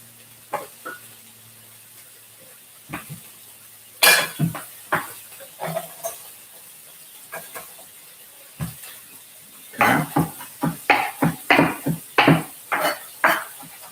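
A kitchen knife gives herbs and vegetables for pico de gallo a rough chop, with irregular sharp taps on a cutting board that come in scattered bursts, sparse at first, then quicker and denser toward the end.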